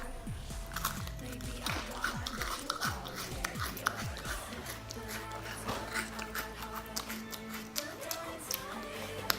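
Crunching and chewing on Club crackers, close to the mic. Repeated sharp bites and crunches come through over a soft background.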